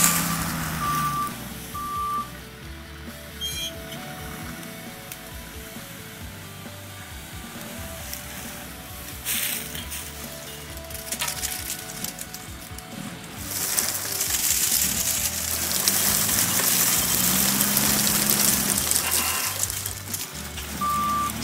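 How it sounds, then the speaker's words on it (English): A tree shaker machine at work in a pecan orchard at harvest, with a heavy engine rumbling throughout that swells into a loud, hissing roar midway, and intermittent reversing beeps at the start and end. "This is what a shaker does out on the pecan farm in order to get the pecans out of the tree."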